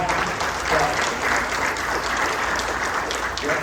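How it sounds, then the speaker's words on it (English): An audience at a NAMI San Antonio general meeting breaks into sustained applause, a dense, even wash of clapping that carries on steadily from start to finish. "please give them a round of applause right now"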